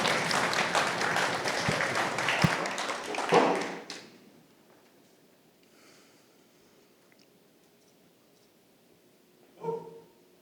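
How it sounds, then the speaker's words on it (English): A pitch fest audience applauds for a startup presenter, dense clapping filling the room for about four seconds before fading out, followed by quiet room tone and a brief thump near the end. "A big round of applause."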